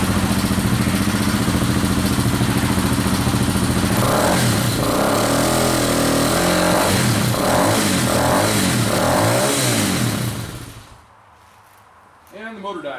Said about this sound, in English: I'll go ahead and I'll rev the throttle a few times and I'll turn the motor off.